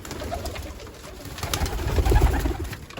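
Pigeons coo nearby in low, soft, repeated calls, with faint fluttering and light background rustle.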